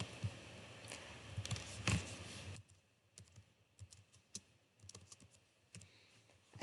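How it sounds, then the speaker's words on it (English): Typing on a computer keyboard, with quick, close clicking keystrokes in irregular bursts, busier at first and then sparser taps, fairly quiet. "We'll type that in now."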